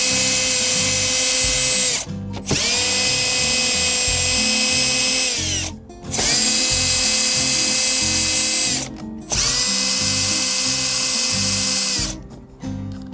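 A power drill zips out 10mm bolts from a Toyota Tacoma dashboard in three long whirring bursts separated by short silent gaps, with ratcheting mechanical clicks under the motor whine, close and loud.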